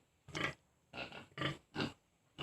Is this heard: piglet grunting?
yes